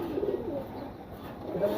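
A young pigeon, the offspring of a parrot-like breeding pair, coos softly in a few low murmuring phrases, close by, over a faint room hum.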